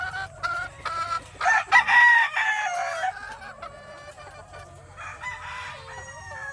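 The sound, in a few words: Claret gamefowl roosters crowing and hens clucking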